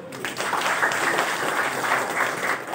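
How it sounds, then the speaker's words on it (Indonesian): An audience at a South Sulawesi community gathering applauds for the children, a dense, steady wash of clapping from many hands that carries on evenly throughout. "mari kita memberi aplaus untuk anak-anak kita"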